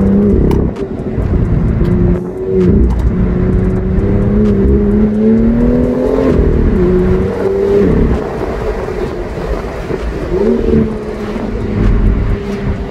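A 370 hp BMW M2 engine idling and revving, heard from inside the car; a loud, sustained tone that rises and falls through several revs with no talk over it.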